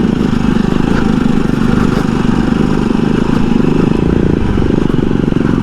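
A Jawa 42 Scrambler motorcycle rides hard off-road, its engine roaring loud and constant at close range with a rough, pulsing throb and no breaks.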